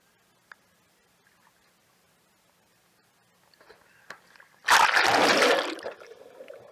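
Water splashing picked up by an action camera sealed in a waterproof housing: quiet, muffled start with a few small ticks, then a sudden loud, broad splash burst that fades over the last two seconds.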